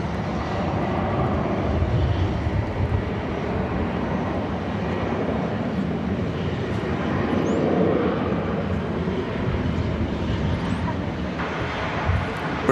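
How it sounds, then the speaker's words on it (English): Airliner taking off from DFW on a flight to San Jose, its engines a loud, sustained broadband roar that swells and eases over several seconds while a voice speaks over it. "So here goes the flight to San Jose."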